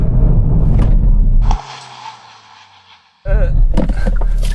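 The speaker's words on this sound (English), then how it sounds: "let's do an emergency stop from 60 miles an hour" A Hyundai i30N does an emergency stop from 60 mph. Loud engine and road roar cuts out abruptly into near quiet with a faint fading whine, then heavy cabin noise returns.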